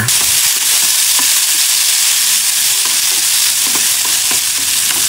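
Corn smut sautés with garlic and ginger in a hot pan, a loud, dense, continuous sizzle with occasional scraping stirs, close up and without speech.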